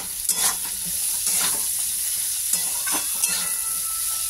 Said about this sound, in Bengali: পেঁয়াজটা দিয়ে একটুখানি ভাজা ভাজা করে নিই।